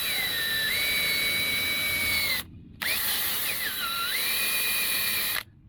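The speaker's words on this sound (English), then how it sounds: "Had the brush on the drill, swirled it around." An electric drill spins a scrub brush on the carpet of a 2004 Buick Rendezvous interior, giving a steady high-pitched whine that dips and rises in pitch. It runs in two long bursts with a short pause between them and no talking.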